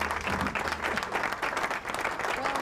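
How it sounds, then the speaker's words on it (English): A room full of people at a hypertension awareness programme at a primary healthcare centre claps steadily and warmly for a few seconds, a dense patter of applause with a few scattered voices. "let's give them a round of applause for that wonderful role play."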